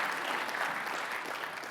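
Conference audience applauding, a steady continuous wash of clapping at moderate level throughout, with no break or voices standing out.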